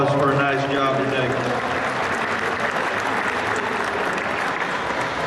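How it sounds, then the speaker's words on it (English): A crowd at a market lamb show applauds the young exhibitors, with dense, steady clapping that fills the space and tapers slightly, while a voice carries over the start of it. "Let's give all these kids a round of applause for a nice job today."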